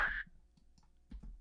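A computer mouse clicks in Pro Tools while drawing a drumbeat, a handful of faint, sharp close clicks spaced irregularly, including a quick double click, in an otherwise quiet room.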